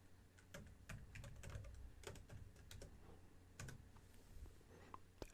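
Rapid keystrokes on a computer keyboard in bursts of irregular clicks, close and clear over a low steady hum, with no talking.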